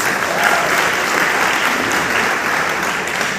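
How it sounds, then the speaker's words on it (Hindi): Loud, dense applause from a crowd at a business event in Kolkata, steady and continuous throughout with no break. "सभी लोगों के लिए एक जोरदार ताली होनी चाहिए"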